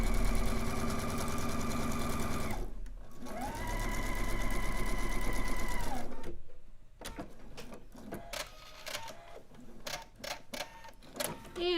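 A sewing machine stitches steadily in two long loud runs with a brief pause between, then gives way to scattered clicks and handling sounds of fabric being cut with the machine's side cutter.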